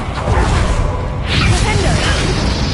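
A Confringo spell is cast in Hogwarts Legacy, giving a whooshing, fiery burst over a dense game soundscape with combat noise and voices.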